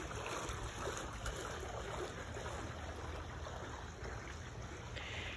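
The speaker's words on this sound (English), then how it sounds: "You've got a jacuzzi at the end, water feature that keeps the water moving" Water feature in a backyard pool with a jacuzzi at one end, keeping the water moving: a steady, close rushing and splashing wash that runs unbroken from start to finish with no voices.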